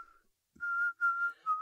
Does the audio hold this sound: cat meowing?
no